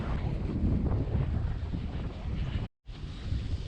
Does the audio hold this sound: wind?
yes